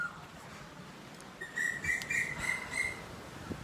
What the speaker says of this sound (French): Au début, on les trouve sympas, les oiseaux.